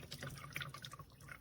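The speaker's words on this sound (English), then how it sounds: "Look at all this water coming out of here." Water trickles and drips from a hose-end lawn seed sprayer, a faint, close, uneven splatter of liquid with small droplets.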